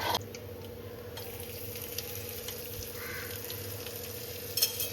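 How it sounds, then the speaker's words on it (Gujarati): Ajwain, hing and a red chilli temper in hot ghee for dhaba-style moong dal, a faint steady sizzle with a few light clicks near the end. "એની અંદર અડધાની અડધી ચમચી જેટલો અજમો નાખશું ચપટી હિંગ નાખશું એક લાલ મરચું"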